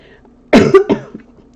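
A short burst of two or three rough coughs, close and loud, then quiet.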